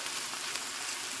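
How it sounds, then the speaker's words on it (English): Onions sauteing in a pan give a steady, close sizzle with a dense crackling hiss and no pauses. "I'm going to saute the onions"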